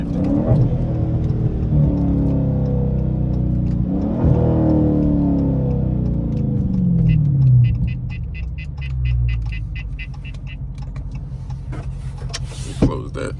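A Dodge Challenger or Charger Hellcat revving on downshifts at a stoplight, with loud rising and falling engine sweeps heard from inside the car, then a power window whirring, all under a talking driver.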